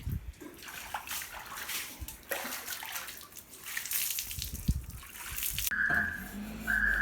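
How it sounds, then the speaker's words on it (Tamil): Water from a bucket splashes and trickles over a motorbike being washed, with rising and falling pours and sloshing, ending in a steadier stream close by. "ஒரு பக்கெட்டில் இன்னும் 2 டப்பா தண்ணி இருக்குது. இதை அப்படியே கடைசி எடுத்து ஊற்றிடலாமா?"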